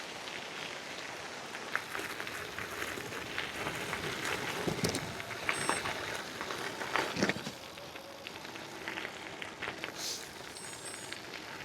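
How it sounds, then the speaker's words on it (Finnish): Strong gusting wind buffets the microphone while cycling along the Saimaa Canal toward the eastern border fence on an autumn day, a continuous roaring rumble with louder bursts, heard alone without talk. "Kaunis syyspäivä, mutta ihan hirveä tuuli täällä."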